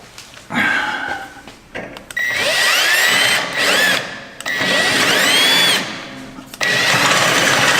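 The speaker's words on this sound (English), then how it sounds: "Now I will take a drill with a 1/2-inch drill bit and run all the way through this" A power drill with a 1/2-inch bit bores through a UTV suspension control arm, its loud, close whine rising in several long, sustained bursts separated by short stops.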